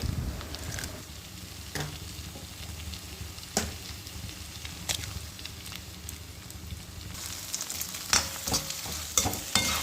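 Three beaten eggs poured into a pan of fried vegetables and stirred, a low sizzle broken by scraping and clattering stir strokes, close, without talk.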